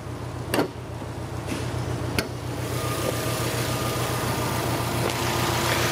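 A 2018 Subaru WRX STi engine idles steadily with a low, even rumble throughout, broken by a couple of brief sharp clicks near the start.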